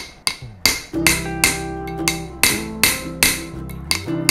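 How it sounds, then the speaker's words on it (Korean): Roughly ten sharp hammer blows ring out on a lump of melted, rounded silver resting on a steel block during a silver pendant-making class, each strike bright and metallic with a short ringing decay, spaced in an uneven rhythm. "여기다가 망치질을 하겠습니다"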